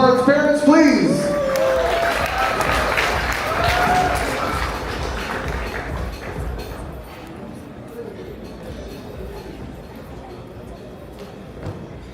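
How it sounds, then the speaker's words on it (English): Guests at a wedding reception applaud the groom's parents after their speech, clapping fairly loud at first beneath a talking voice, then fading away into quieter room sound. "a big round of applause for that great first speech from Parth's parents"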